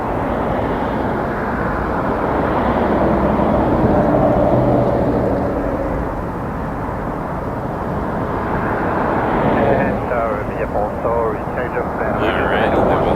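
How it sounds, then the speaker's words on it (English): A WestJet Boeing 737 MAX 8 arriving from Vancouver at Toronto Pearson passes as a broad, steady jet roar at moderate distance, with wind buffeting the microphone and faint radio chatter creeping in near the end. "that was a WestJet 710 coming in from Vancouver, 737 MAX 8"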